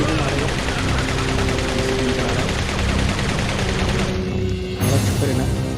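Sustained gunfire from Jack Krauser in a Resident Evil game, a dense continuous barrage that stays loud throughout with a brief dip near the end before resuming, with a voice faintly mixed in.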